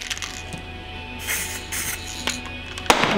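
A clear-varnish aerosol spray can is sprayed onto a car hood at home, giving short bursts of soft, close hiss over a quiet background, with a small click near the end.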